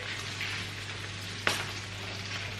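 Breaded artichoke pieces frying in hot oil, a steady close sizzle and crackle with one brief sharp pop midway.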